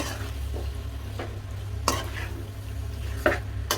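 Prawns sizzle steadily in a frying pan as a utensil stirs them, with a few sharp scrapes and clacks against the pan.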